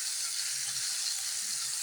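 Onions sautéing in a pan while browning, a steady bright sizzle close up and constant throughout, with faint clinks underneath and no voices.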